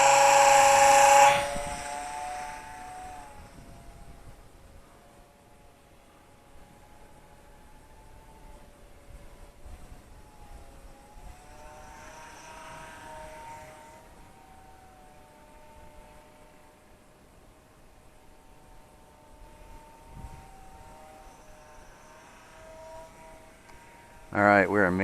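An Eachine Mini P47 500mm RC plane launched and flown, its small electric motor a thin steady whine rising and falling as it passes, with a loud gust of wind noise at the start and end.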